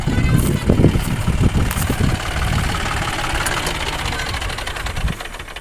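A tractor engine runs in a field at night, a steady, rough mid-pitched rumble with knocking pulses, loud at first and easing slightly toward the end, with a voice talking over it.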